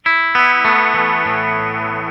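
Guitar notes ring out through a chorus pedal set to low rate and high depth, a shimmering, warbling modulation, a few chords struck in sequence and left to sustain with a slightly distorted edge.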